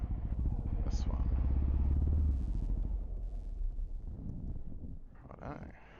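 A Honda CRF250L Rally motorcycle fitted with a MotoX exhaust pulls away, its close, loud engine rumble swelling then easing as it rides off, with wind buffeting the microphone.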